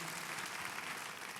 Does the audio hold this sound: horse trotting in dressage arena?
no